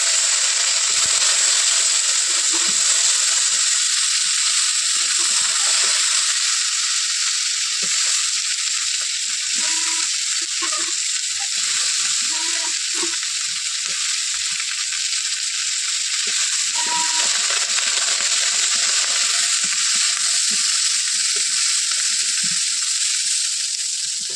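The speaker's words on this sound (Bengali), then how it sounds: "পটলগুলো লাল করে ভেজে নেবো" Pointed gourd (potol) pieces fry in hot oil for a mixed vegetable dish with puti fish, giving a steady, close sizzle and hiss that continues without a break.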